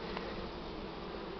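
Honey bees buzz at an opened hive during treatment against mites, a constant faint droning hum close by with no breaks or voices.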